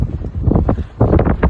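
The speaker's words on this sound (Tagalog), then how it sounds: "Lakas ng hangin." Strong wind buffets the microphone in rough, rumbling gusts on a hot seashore in Saudi Arabia, loud and close, with a brief lull before it surges again.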